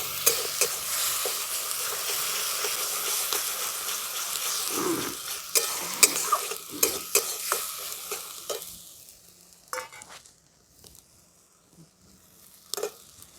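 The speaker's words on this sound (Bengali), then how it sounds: "এবার এটাকে একটু ভালো করে তেলে কষিয়ে নিচ্ছি" Grated tomato and ginger sautéing in oil in a home kitchen: a steady sizzle with irregular stirring scrapes and clinks, close, fading to quieter stirring near the end.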